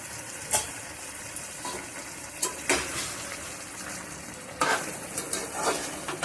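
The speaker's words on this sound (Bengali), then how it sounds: "ঢাকনাটা খুলে একটু নেড়ে দিলাম।" A ridge gourd curry is stirred in a pan just after the lid comes off, steady sizzling frying with several sharp spatula scrapes and clinks against the pan, close and clear with no talking.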